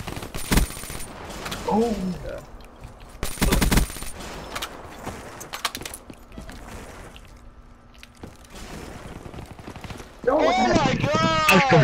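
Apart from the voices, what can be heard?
gunfire in a video game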